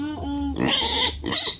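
A pig grunts and squeals close by on a small farm, a low voiced grunt followed by two louder, harsh squealing bursts, with no talking.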